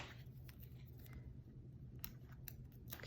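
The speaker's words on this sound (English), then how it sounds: "Snip off a little piece" Scissors snip a small piece of 3D foam while a handmade Valentine's card is assembled, giving several quiet, short crisp cuts over a soft, steady background hum.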